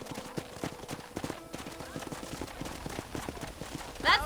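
Horse hooves gallop in the Red Dead Redemption video game with a quick, rhythmic clip-clop of repeated beats at moderate loudness, and a brief brighter burst near the end.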